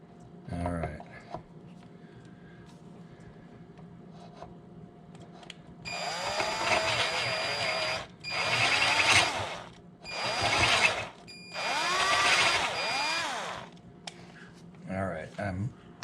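A drill runs in four bursts inside the hollow body of an ES-335 guitar during a rewiring job. The whines are close and mid-loud with short pauses between them, and a voice talks briefly at the start and end.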